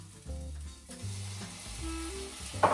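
Green beans with half a tablespoon of honey stirred in a hot pan, a soft steady sizzle with light scraping of the spoon, close and alone without talk.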